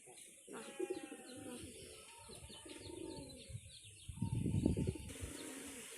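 A crested Tritis pigeon, darker than usual, coos softly amid chirps and faint rustling, with a louder burst of cooing near the end, all heard from close range.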